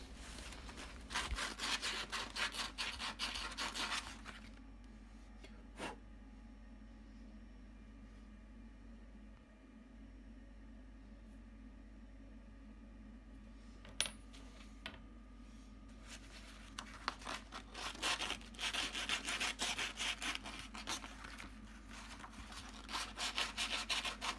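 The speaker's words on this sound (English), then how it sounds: "we're just going to rough up the brass tubes a little bit on some 220 sandpaper" Brass pen tubes are rubbed on 220 sandpaper in rapid, raspy back-and-forth strokes, loud at first, pausing for about ten seconds with a couple of clicks, then resuming.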